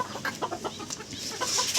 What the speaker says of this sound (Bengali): এর মধ্যে এই লফটে মোটামুটি দুশো পিস পায়রা আছে